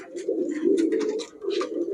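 Giribaz pigeons coo continuously and close by, a low steady rolling murmur with a few brighter calls above it and no talking.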